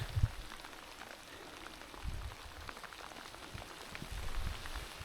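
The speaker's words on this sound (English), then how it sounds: "At the moment there's quite a lot of rain." Heavy rain patters steadily on rocks and a tarp nearby in the Snowdonia wilderness, a dense fizz of drops with occasional low thumps, moderately quiet and unbroken.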